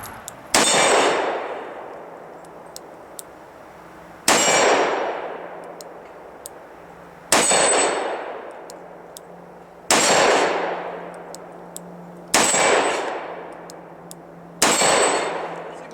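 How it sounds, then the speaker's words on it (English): Six revolver rounds ring off a 12-inch steel gong at 25 yards, from a Smith & Wesson 686 Performance Center revolver. Each sharp report is followed by a bright metallic clang that decays, spaced about three seconds apart. "25 yards, 12-inch gong out there, hitting it I think 5 out of the 7 times."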